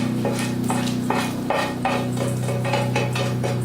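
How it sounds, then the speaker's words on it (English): Food is scraped and stirred with a utensil in a pan and moved to a different pan in a home kitchen, giving repeated close metallic scrapes and clinks over a steady background hum. "we're going to transfer this over to a different pan here so that I can start browning up the mushrooms"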